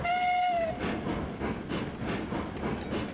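Steam locomotive in the train game Railroads Online, a short whistle blast opening over a steady, rhythmic chugging exhaust that pulses at an even pace throughout.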